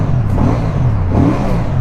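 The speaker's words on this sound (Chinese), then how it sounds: "你看我在轰油的时候" A QJMotor Race 550S motorcycle engine with a 270-degree crank revs up and down, a loud, close, steady throaty drone with rising and falling pitch.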